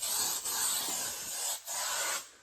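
Spray adhesive being applied for Volkswagen carpet lining, a close, continuous hissing spray in bursts with brief gaps between passes.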